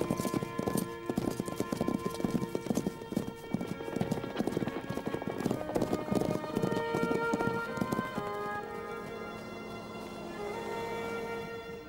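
Horses' hooves clip-clop steadily during an endurance race, a busy overlapping patter of several animals up close, with faint voices and background tones mixed in.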